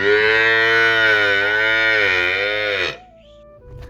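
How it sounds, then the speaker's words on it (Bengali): A single loud, drawn-out cow moo, close by, lasting about three seconds before trailing off into quiet. "আর এদিকে মা গরুকে জল দিচ্ছিল"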